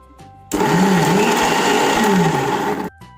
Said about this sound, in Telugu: వీటన్నింటిని కూడా మనం మిక్సీ పట్టుకుందాం